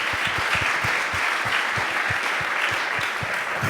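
Audience members at an energy grid policy session give the panelists a hearty round of applause, steady dense clapping with distinct nearby hand claps in a quick uneven rhythm.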